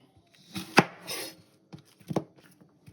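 Knife dicing an onion on a cutting board in a home kitchen, a few sharp chops spaced irregularly with quiet gaps between, close and fairly faint.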